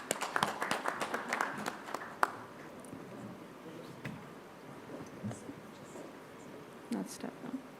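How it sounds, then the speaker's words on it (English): Applause and clapping from an audience at a corporate energy-efficiency campaign event, a burst of claps early that fades into quieter scattered noise, with speech over it. "A round of applause for Ambika too."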